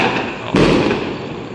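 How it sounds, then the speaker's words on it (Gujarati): Diwali firecrackers bursting outdoors: a steady crackle of distant festival fireworks, then one loud, close bang with a deep thump, trailing into continued popping. "કેવા મસ્ત ફટાકડા ફૂટે છે"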